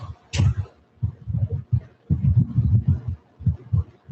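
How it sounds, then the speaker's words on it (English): A heartbeat-like thumping comes through from a meeting room on a call, a muffled low double-beat pulse repeating steadily and fairly loud, with no talk over it. "It sounds like you got a heartbeat in the room"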